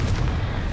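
A Confringo spell blast in Hogwarts Legacy, a single dense, low booming burst that fills the short moment with a heavy rumbling roar.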